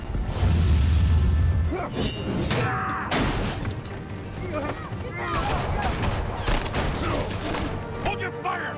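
Gunfire and crashing impacts in Batman The Telltale Series ring out in busy, clattering bursts, loud and layered, with a voice speaking over the shots.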